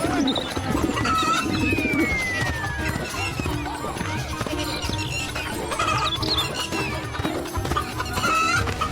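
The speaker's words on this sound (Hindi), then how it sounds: "कलुआ शाम को बाजार से 2 बड़ी बड़ी मुर्गियां खरीदता है" Chickens clucking and squawking in a busy, noisy setting, with scattered voices and background bustle throughout.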